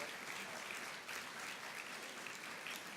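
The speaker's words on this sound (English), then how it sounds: "Give him a round of applause as he comes to the stage." Audience at a chancellor's roundtable breakfast claps steadily and softly, sustained applause at an even level throughout as the chancellor walks up to the stage.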